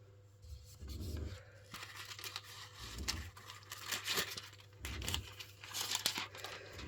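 Big scissors cut through a dry duster cloth in close, quiet bursts of crisp snipping and crinkling, several cuts spaced over a few seconds.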